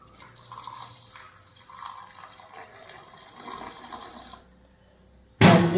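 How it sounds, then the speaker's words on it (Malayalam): Water is poured over two glasses of instant oats in a kitchen, giving a soft, steady trickle. It stops briefly before a sudden loud splash-like burst at the end. "ഇത് നമുക്കൊന്ന് ഒരു 5 മിനിറ്റ് നേരം വെള്ളത്തിലൊന്ന് കുതിർത്ത് വെക്കണം."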